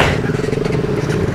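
A group of six motorcycles setting off together, engines loud and close with a rough, pulsing idle-to-rev rumble and some rattling, no voices.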